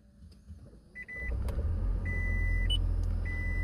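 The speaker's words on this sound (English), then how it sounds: "you get into your car and start it up" A Toyota Prius hybrid starts up. A few soft clicks are followed by short electronic beeps and a low steady hum that swells and holds, heard close inside the car.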